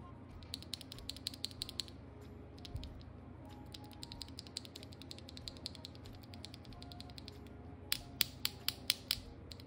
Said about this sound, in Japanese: ちょっとスイッチ単体で音を試してみます。